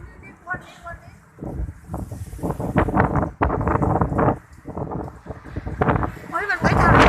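Strong gusty wind ahead of a storm roars and buffets the microphone in surging bursts, with people talking excitedly over it throughout.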